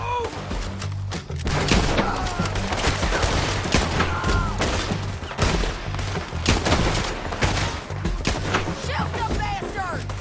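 Bursts of rapid gunfire and impacts from a PS4 video game, loud and close, with repeated crackling shots and thuds across the whole stretch while voices shout over the action.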